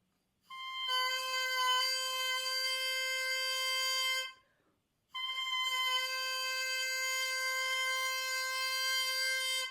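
Oboe reed crowing on its own, two sustained bright buzzing tones with rich stacked harmonics, each held several seconds with a short gap between, steady and close.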